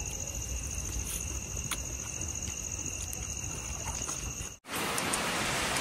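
Rain falls at night and a steady hiss of drops mixes with insect chirping, then the sound briefly cuts out and comes back as an even, broad wash of rain.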